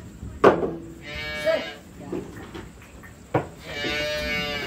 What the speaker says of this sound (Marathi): तुमच्याकडे म्हैस पण आहे ना.